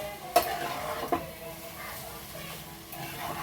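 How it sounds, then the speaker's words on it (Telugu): Egg noodles being stirred together with a fried mixture in a pan, giving a soft, steady scraping and faint sizzle, with two sharper utensil knocks near the start. "ఇప్పుడు కలపటం కొంచెం కష్టంగా ఉంటుంది కొంచెం స్లోగా మీరు అడుగు అంటకుండా కలుపుకోండి"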